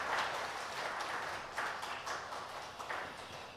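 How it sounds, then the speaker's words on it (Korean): A church congregation applauds during a Sunday worship service, a continuous, moderately distant patter of many hands with small swells and no voices on top. "우리 하나님 앞에 영광의 박수를 드리겠습니다"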